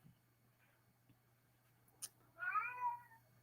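A pampered house cat gives a single clear, drawn-out meow near the microphone, rising then falling for about a second, after a brief click in an otherwise quiet room with a low steady hum.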